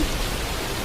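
Sudden downpour in an animated Filipino flood scene, a dense, even hiss of heavy rain with no breaks, brief and continuous.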